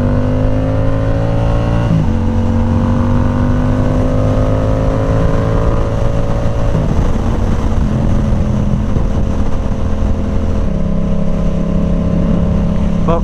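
Yamaha R7 motorcycle with an aftermarket exhaust revving loudly and steadily up close, engine pitch rising and dropping in several stepped blips across the run, with no talk over it.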